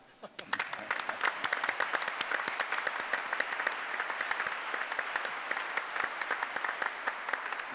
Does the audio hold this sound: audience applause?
yes